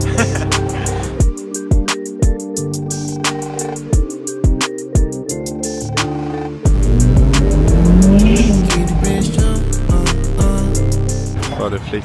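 A Ferrari drifting, its engine revving hard in repeated bursts with sharp gear-shift gaps, then a sustained loud roar with tire squeal; close and dominant, with voices in the car at times.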